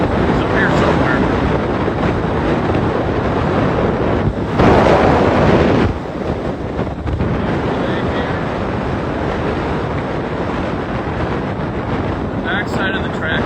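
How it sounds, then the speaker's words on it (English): Strong, blustery wind roaring across the microphone beside an outdoor Ultraskate skating track, a continuous loud rumble with a sharper gust midway, no other distinct sounds standing out. "Side of the track is always windy."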